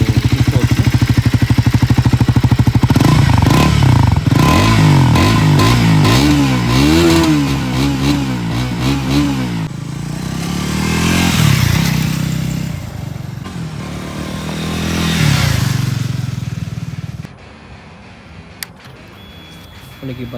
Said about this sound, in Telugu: ఒకసారి ఇంజిన్ స్టార్ట్ చేసి చూద్దాం